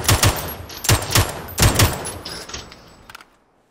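Gunfire in a battle royale match on the Karakin map: three loud bursts of rapid shots, each a cluster of sharp cracks, come at roughly even intervals, then fade into a brief tail with one faint shot near the end.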